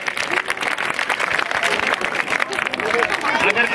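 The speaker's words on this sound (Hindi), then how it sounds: "जोरदार तालियां इन बच्चों के लिए" An audience at a school annual programme applauds the children, a dense, steady wash of many hands clapping with crowd murmur throughout, loud and sustained.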